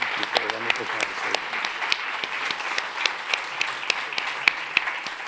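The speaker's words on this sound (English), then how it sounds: "Another big round of applause for Eduardo Kohn" Steady audience applause at a design symposium, many hands clapping densely for several seconds with sharper individual claps standing out, a voice briefly audible at the start.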